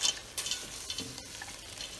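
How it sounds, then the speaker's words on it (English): Vegetables are stirred in a pan for a vegan shepherd's pie, giving soft, irregular scraping and gentle sizzling, quiet and close with a few brighter clinks. "And stir it all up."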